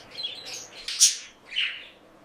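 A budgie gives a few bright, high chirps in quick bursts, close and fairly clear, with short pauses between calls and no talking.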